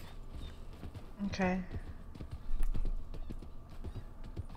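Horse hooves clip-clop in the video game Red Dead Online, a quick uneven run of hoofbeats at moderate distance with a brief whinny, while players chat over it.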